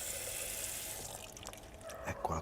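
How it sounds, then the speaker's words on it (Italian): Lukewarm water is splashed from a tap into a sauce of crumbled Greek feta and oregano, a short soft running pour alone in a kitchen that ends with a few light clinks. "Poi un goccetto d'acqua tiepida"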